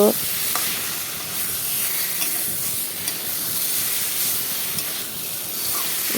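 Fish curry with potato and spices being stir-fried in a pan, a dense continuous sizzle and hiss with occasional soft spatula scrapes, close and steady throughout.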